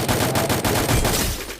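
Rapid gunfire from the mobile battle royale game Free Fire, a dense, loud burst of continuous automatic shots filling the whole moment with no talking.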